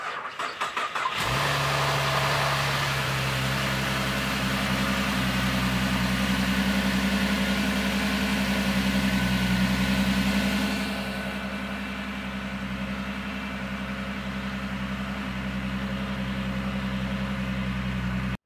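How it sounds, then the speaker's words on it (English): A Cadillac engine, freshly rebuilt, cranks and catches, then settles into a steady close idle that lasts, with the revs easing down partway through. "Put the engine back together, and it ran like a champ."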